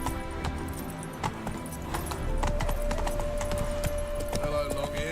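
In The Witcher 3, the horse Roach gallops with rapid, rhythmic hoof clip-clops close by over a game music background, ending in a short whinny-like tone.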